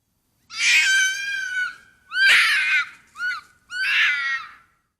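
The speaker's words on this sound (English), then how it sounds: "It sounds like a woman screaming. It's like a really harsh screech." A harsh, shrill screech like a woman screaming in the horror game Don't Sleep, four loud wailing cries with short gaps between them, close and alone.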